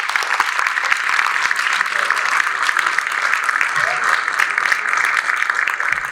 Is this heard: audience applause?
yes